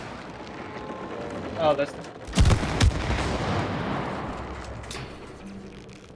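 Gunfire in the video game It Takes Two: a few sharp blasts cluster in the middle, the loudest pair close together, over steady game ambience with a voice speaking briefly.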